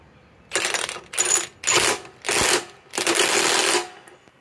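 A Milwaukee M18 Fuel Gen 2 impact wrench with a pin detent, powered by a 6 Ah Forge battery, works on a nut in five loud, close bursts of rapid hammering, each about half a second long, separated by brief pauses.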